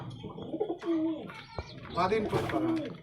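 Madrasi pigeons give soft, repeated cooing calls up close, with brief chirps mixed in, in a loft of pigeons kept for sale.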